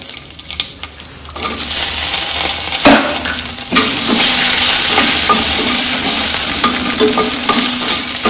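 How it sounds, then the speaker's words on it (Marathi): Dry fruits roasting in ghee for wheat kheer, a loud, steady close-up sizzle with stirring scrapes throughout after a quieter start, no talking. "त्यासाठी तूप घालत आहे, 2 चम्मच तूप घातले, ड्रायफ्रूट घालते, भाजून घेते"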